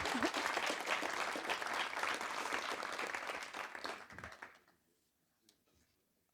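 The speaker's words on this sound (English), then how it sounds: "And loud applause, please." An audience claps loudly and steadily in a hall for about four seconds, then the applause trails off into silence.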